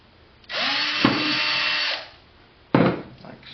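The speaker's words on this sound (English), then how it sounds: "I'm going to use an 1/8 inch drill bit. Just drill a hole in the bottom side." A small power drill with a 1/8 inch bit whirs up to speed for over a second, bites briefly into the bottom of a salute shell, stops, then starts again in a short burst, loud and close.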